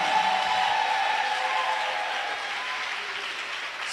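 A church congregation at a Sunday service clapping and applauding, a steady, dense wash of many hands that is loud and close at first and eases slightly toward the end.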